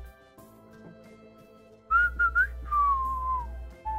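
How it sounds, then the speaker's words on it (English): A person whistles a short melodic phrase of three rising chirps and then one long falling note, clear and close over a quiet low hum, with no talking. "I whistled."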